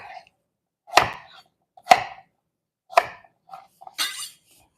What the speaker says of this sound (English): Pay attention to your chopping.